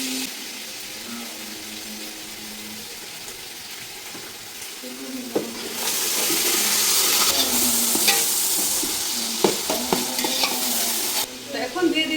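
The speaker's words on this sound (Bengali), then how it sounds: "আজকে আড়াই কেজি গরুর মাংসের বিরিয়ানি রান্না করা হচ্ছে" Onions, ginger and garlic masala for a two-and-a-half-kilo beef biryani fry in a pot, stirred with scraping strokes; the sizzle swells louder midway and stays under frequent close stirring clatter.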